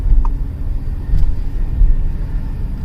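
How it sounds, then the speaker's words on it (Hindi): Skoda Kushaq idling in neutral with the clutch pressed, after a software update: a steady, close low engine rumble that holds evenly throughout with no revving and no talk. "अब देखिए कार है न्यूट्रल पे, मैं क्लच प्रेस कर रहा हूँ"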